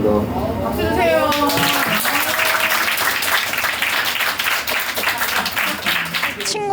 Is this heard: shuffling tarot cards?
no